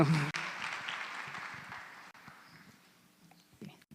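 A church congregation bursts into applause, loud at first and then thinning out and fading over a few seconds, with a few scattered claps near the end.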